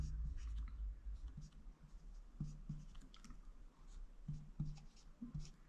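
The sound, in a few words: writing out a math equation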